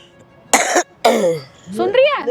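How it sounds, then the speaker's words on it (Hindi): A person coughs three times in quick succession, close and loud, with dry harsh bursts separated by short pauses. "खांसी आ गई"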